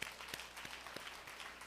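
A church congregation gives a short burst of soft applause, a few sharper claps standing out from the muffled patter.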